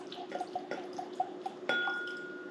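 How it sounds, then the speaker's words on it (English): Bib & Tucker six-year bourbon trickles into a glass with a few light clinks and drips, then a brief pour leaves a faint ringing tone hanging in the glass. "Pour myself a good pour of it."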